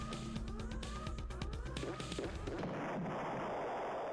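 A spaceship blowing up in the Ur-Quan Masters space combat game: a loud, sustained crackling roar of explosions with siren-like sweeping tones, then electronic whining tones over rumbling noise.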